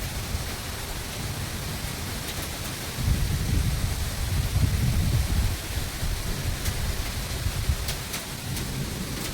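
Heavy rain pours steadily outside a house, a dense hiss of falling water, while a low rolling rumble of thunder swells in the middle and fades, with no voices.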